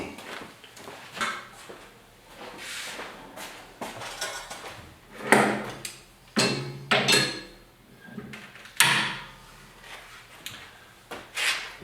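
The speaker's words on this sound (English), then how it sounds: "I'm going to clamp it down, and I'm actually going to put 2 screws in here" An MDF workbench top is clamped and screwed down in a workshop, giving irregular knocks, clacks and scraping handling noises at close range, with short quiet gaps between bursts and no speech.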